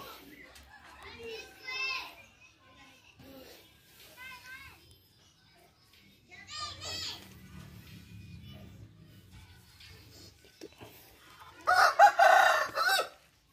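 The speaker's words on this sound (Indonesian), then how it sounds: "pakai suara ayam" A rooster crows loudly near the end, following scattered talk and children's voices in the background.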